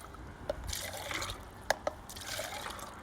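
Water poured back and forth between containers to air-saturate it for calibrating a dissolved oxygen meter: a close, gurgling trickle with a few sharp clinks of the vessels.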